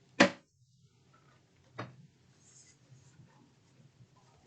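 Tarot cards being drawn and handled during a reading: two crisp, close card snaps about a second and a half apart, with quiet room tone between and no talking.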